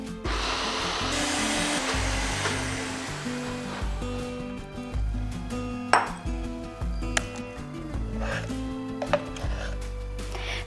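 An electric grinder works soaked lentils and a green chili into a thick paste with very little water, producing a loud whirring motor roar with scattered knocks and clatter, no voices.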